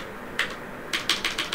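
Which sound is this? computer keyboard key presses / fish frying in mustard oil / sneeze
computer keyboard key presses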